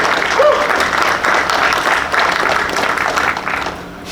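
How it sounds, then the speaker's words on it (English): A crowd applauds at the 2024 Windsor-Essex Pride Fest flag raising ceremony, with dense, steady clapping that holds for about four seconds before easing slightly, and voices mixed in beneath it. "I think we all should give ourselves a round of applause for being here"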